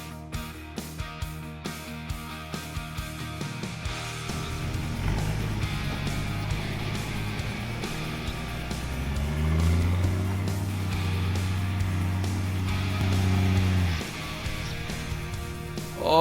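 A Toyota four-wheel drive is driven hard through soft ground on the Old Coach Road near Maytown in Cape York. A few sharp knocks come first, then the close engine strains and revs higher in sustained surges before it suddenly drops off.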